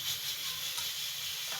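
Onions hit hot oil in a pan for Lahori chicken chanay, giving a steady, soft sizzling hiss that stays even and fairly faint throughout the short moment.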